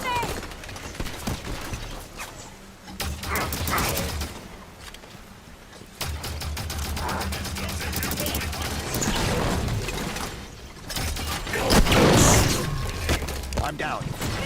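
Rapid video game gunfire and a grenade launch crackle in dense bursts through the whole stretch, loud and layered with music, while a voice talks over the action.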